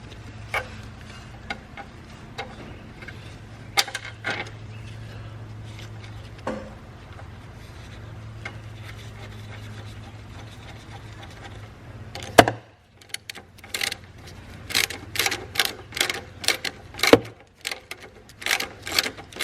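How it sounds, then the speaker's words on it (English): Bump stops are bolted up on a bagged Corvette C4, heard as scattered clicks and knocks over a low hum, then a fast run of sharp ratcheting clicks near the end. "So now I'm going to bolt these up"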